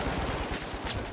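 Automatic weapon fire in the shooter game The Finals: a quick, dense burst of overlapping shots rattles without a pause through the short moment.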